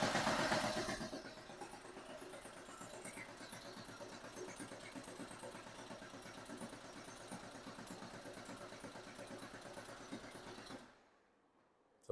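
A rebuilt 1990 Porsche 911 964 Carrera 4 engine cranks with a steady, rapid mechanical chatter that runs loud and continuous for about ten seconds before cutting off into near silence.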